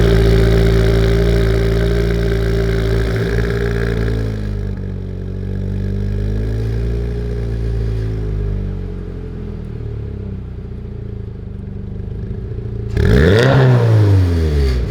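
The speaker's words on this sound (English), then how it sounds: "I'll give you guys a cold start and give you a couple revs." Car exhaust on a Toyota GR86 or Subaru BRZ fitted with new exhaust parts, heard from a cold start: a loud, steady engine drone with rising and falling pitch, settling lower, then a sharp rev that climbs and drops near the end.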